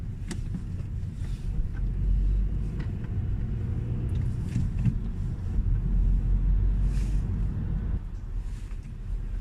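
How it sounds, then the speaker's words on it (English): Inside a car crawling in a traffic jam near a roundabout in Cavan, a steady low road rumble and wind noise persist throughout, with a few faint clicks and no talking. "Famous Cavan traffic jam near the Dublin roundabout."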